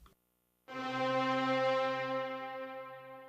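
A single sustained synth tone swells in after a short pause and hangs in a washy, fully reverberant haze, slowly fading.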